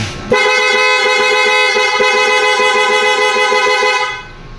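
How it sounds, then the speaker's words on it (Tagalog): A single sustained motorcycle horn blast, loud and close, holds steady for about four seconds before cutting off. "Busina."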